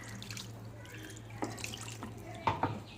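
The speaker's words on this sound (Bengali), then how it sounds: "এবার এই যে মিক্সির বাটির ধোয়ার জলটা আমি এটা আবার দিয়ে দেবো।" Rinse water from a mixer grinder bowl is poured over chicken in a pan for an oil-free recipe, a close splashing trickle over a steady low hum, ending in a couple of brighter splashes.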